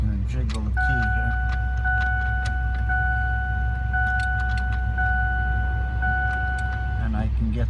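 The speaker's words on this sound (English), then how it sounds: "if I jiggle the key, I'm gonna jiggle the key here." A key jiggles in a worn Ford ignition switch with light metallic rattling. A steady repeating warning chime sounds over it and someone talks throughout.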